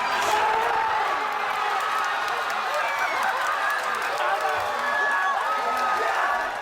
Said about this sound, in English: the cheering reached fever pitch as jubilant Japanese fans and fan zones across the country celebrated